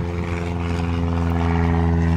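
A small propeller plane drones overhead near a flight school, a steady loud engine hum with strong low harmonics holding constant throughout.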